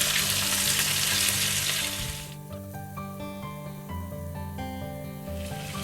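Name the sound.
marinated chicken frying until golden on both sides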